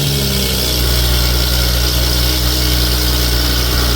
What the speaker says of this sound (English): go ahead and open the garage door and start the car